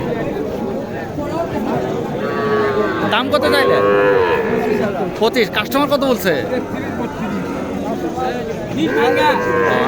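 Calves moo loudly and repeatedly amid cattle market chatter at Sati Haat in Naogaon, with people talking close by throughout.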